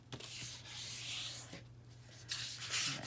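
Paper being cut in half during a mini album craft project, heard as a soft, steady rubbing and rasping scrape with brief pauses, close and fairly quiet over a low background hum.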